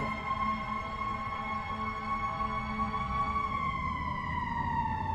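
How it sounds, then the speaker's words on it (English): A fire truck's wailing siren sounds steadily throughout, its tone sliding downward near the end as the truck passes, with traffic rumble beneath. "That's a fire truck, not an ambulance"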